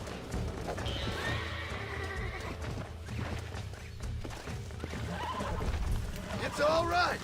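A horse in Red Dead Redemption whinnies and gallops with steady clip-clop hoofbeats, and a louder neigh comes near the end over a cluttered game soundscape with a voice.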